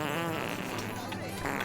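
A cartoonish fart sound effect from a children's story set in Santa's fart factory, heard as a loud, buzzing, drawn-out blast under a narrator's voice for most of its short length.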